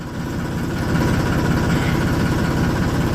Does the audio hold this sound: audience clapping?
no